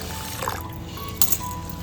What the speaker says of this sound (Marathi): इकडे ना आता आपण टोपामध्ये ना पूर्ण तांदूळ धुवून घेतोय पाणी घालून